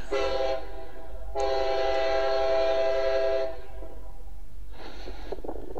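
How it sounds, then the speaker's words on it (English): A train rumbles past steadily while its horn sounds in loud, sustained blasts, a short one first, then a long one, then another brief blast. "it's not a real long train, but comes through pretty quick"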